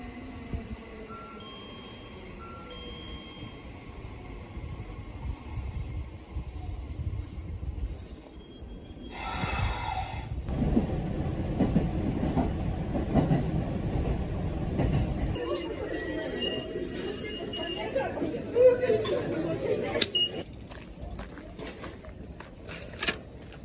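Trains passing near a high school in Japan, a steady rumbling rail noise with rising wheel and track hiss that grows louder partway through, heard over a busy outdoor background with faint construction sounds and voices.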